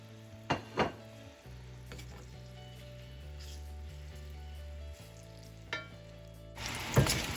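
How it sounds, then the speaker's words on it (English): Plantains fry in a pan of oil with a low steady sizzle, a few sharp clatters near the start and a louder burst of spattering at the end. "Now I'm going to start adding in the plantains."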